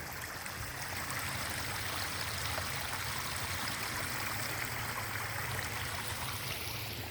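A small stream flows and trickles steadily nearby, a soft, even wash of water with no voices.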